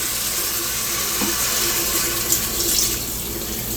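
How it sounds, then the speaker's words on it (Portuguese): Hot water pours steadily into a cooking pot over sautéed seasonings, a continuous close rushing splash at even loudness with no talk. "E aí agora eu vou colocar água quente"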